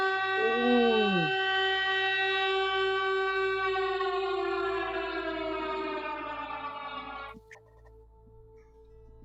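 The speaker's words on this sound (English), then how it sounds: "you hear what sounds like a siren of some sort go off" A loud siren in a video game wails for about seven seconds, opening with a rising and falling sweep, then holding a long harmonic-rich tone before cutting off abruptly, leaving a low hum.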